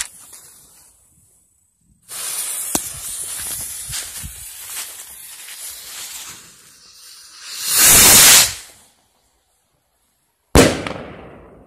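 New Year's Eve firework rocket launching outdoors: a long rising hiss and crackle, then a loud whooshing burst, silence, and a sharp close bang with trailing crackle.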